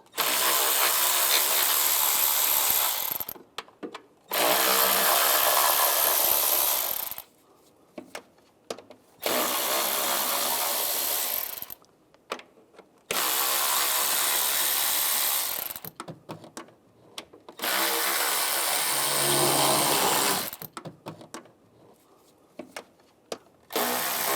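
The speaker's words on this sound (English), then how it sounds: "Now I'll take these bolts out on the top and on the bottom of the intake, use an 8mm socket" A hand tool works the intake manifold bolts on a 2011-2018 RAM 1500 3.6L V6 with an 8mm socket: five loud, close bursts of several seconds each, separated by short quiet gaps, with no talking.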